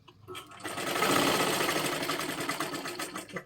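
A sewing machine runs steadily for a few seconds, stitching a double seam on a blouse, its fast mechanical whir close and loud with no talk over it.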